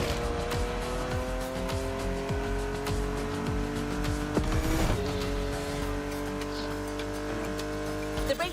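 A Porsche 911 GT3 Cup races around a track in The Crew Motorfest, its engine holding a steady, loud drone with tire squeal. A sharp gear change cuts through near the middle before the engine note settles again.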